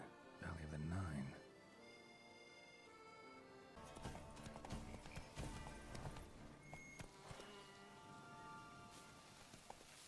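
Roach, a horse in The Witcher 3: Blood and Wine, trots with steady clip-clop hooves under game music, with a short louder burst near the start and speech nearby.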